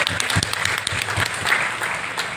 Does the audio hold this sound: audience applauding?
yes